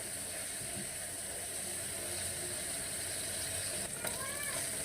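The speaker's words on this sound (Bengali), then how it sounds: "তো চিংড়ি মাছগুলো আগে হালকা একটু ভেজে নিব তেলে।" Shrimp fry lightly in oil with turmeric, giving a steady moderate sizzle, with a short clink and scrape of a utensil near the end.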